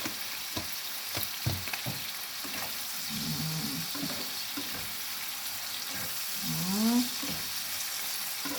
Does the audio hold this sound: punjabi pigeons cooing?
no